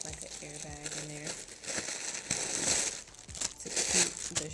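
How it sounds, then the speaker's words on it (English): Plastic air-filled stuffing crinkles inside a handbag, a close, irregular series of rustles and crackles as it is handled, with a voice briefly speaking early on. "and then they put like an airbag in there"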